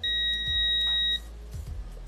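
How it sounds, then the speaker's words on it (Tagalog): A multimeter continuity buzzer sounds a steady high beep for about a second while testing an electric fan's thermal fuse, then cuts off, leaving faint background hum and a few soft clicks. "So, gamitan natin ang buzzer."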